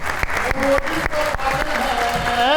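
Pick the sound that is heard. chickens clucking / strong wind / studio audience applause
studio audience applause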